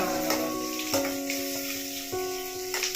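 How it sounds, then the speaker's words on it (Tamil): Onion, curry leaves and green chilli fry in hot oil with a steady close sizzle and crackle, broken by a few sharp pops and stirring clinks. "இப்போ வெங்காயம், கருவேப்பிலை, பச்சை மிளகாய் ஆட் பண்ணியாச்சு. நல்லா கொஞ்சம் பொன்னிறமாக"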